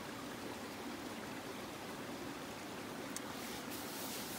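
A cold mountain stream rushing over rocks, a continuous broadband gurgle and roar, steady throughout and close, with no talking.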